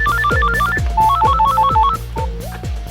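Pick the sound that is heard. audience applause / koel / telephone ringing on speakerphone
telephone ringing on speakerphone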